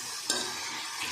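Stir-frying in a pan with salt and turmeric just added gives a brief, steady sizzle with one scrape of a utensil near the start, close and moderately loud, with no voices.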